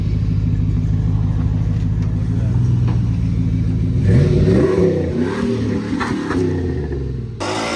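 A van's two-stroke engine rumbles steadily with low mechanical hum, then revs up and fluctuates while voices talk over it, ending with a sharp change in tone.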